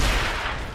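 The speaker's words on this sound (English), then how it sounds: "We're taking heavy fire from a troika!" A brief, loud burst from a Troika mounted machine gun in Gears of War, a single dense blast that fades quickly, with no speech.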